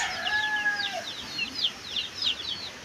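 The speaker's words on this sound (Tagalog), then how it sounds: "Laki po ng tandang naman oh" A rooster's clucks and calls come in a loose series over faint background noise.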